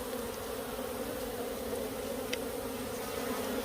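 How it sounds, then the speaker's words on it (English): A dense, steady buzz of many honeybees at a hive in late summer fills the clip, close and constant, with no voices. "Here's some bees."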